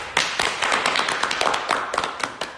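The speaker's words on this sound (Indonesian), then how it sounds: "Jadi tepuk tangan saya lagi untuk Gus Dur." A single person claps by hand, a quick run of about a dozen sharp, close claps in a loose, uneven rhythm, with faint background chatter.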